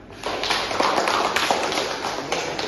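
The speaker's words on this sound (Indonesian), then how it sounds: "Silakan diberi tepuk tangan" A university teaching-workshop class gives a short round of applause, a dense patter of close hand claps in a room, steady throughout with no talk over it.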